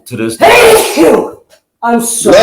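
A loud close sneeze bursts out during a casual hangout conversation, followed by a brief pause and then people talking and apologizing.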